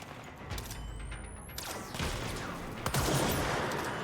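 Rapid gunfire bursts from the video game Control, with dense crackling shots and a mechanical rattle over a busy game soundscape, loud and continuous for a few seconds.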